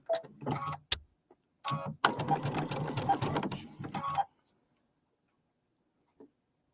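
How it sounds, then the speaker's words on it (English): A sewing machine runs a 1/4 inch seam in bursts, short stop-start runs followed by a steady whirring stretch of about two seconds, then quiet with one small click near the end. "So I'm going to do my 1/4 inch seam."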